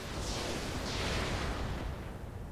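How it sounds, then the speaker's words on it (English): An SRM-6 short-range missile volley fires in the BattleTech-based game RogueTech: a dense, continuous roar of rushing launches and blasts that swells and holds for a couple of seconds before easing off. "we're just going to fire with the SRM-6 and try for a headshot here"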